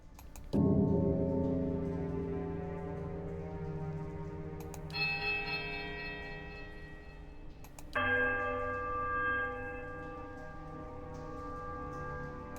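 Heavy, thick iron bells from the game Pillars of Eternity ring in three separate strikes a few seconds apart, each a loud, resonant clang with long shimmering overtones that decay slowly and overlap the next.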